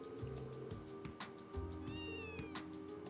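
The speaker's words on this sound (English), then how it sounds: "Do you or anybody you know own a cat? A kitty cat?" A stray cat in the video game Trails from Zero gives a few meows over steady game music with a droning bass line and regular beats.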